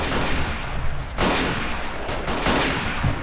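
Rifle and machine-gun fire from soldiers in a WW1 trench-warfare game, a sustained crackle of shots with several sharper bursts standing out, dense and continuous throughout.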